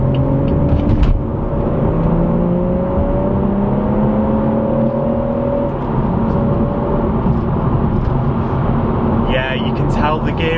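Inside a manual BMW M140i, a steady engine drone and road rumble fill the cabin, with engine tones rising as the car accelerates through gears.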